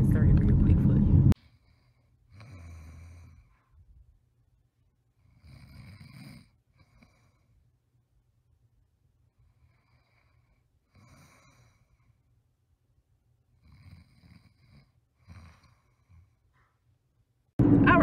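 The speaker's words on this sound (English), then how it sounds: "So did y'all see husband snoring away?" A man snores in bed with several slow, heavy rasping breaths spaced a few seconds apart, quiet in between, and a loud burst of voice at the start and end.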